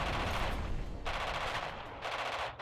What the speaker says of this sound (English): Oh, there goes your light artillery.